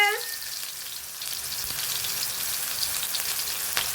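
Lemongrass and ginger sautéing in a reduced amount of oil in a pan, a steady close crackling fry with a short clatter near the start and a brief knock near the end, no talking.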